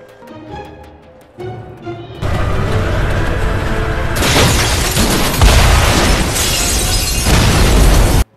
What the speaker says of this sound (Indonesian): Dan tiba-tiba tungku itu meledak.